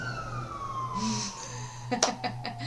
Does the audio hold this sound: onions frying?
no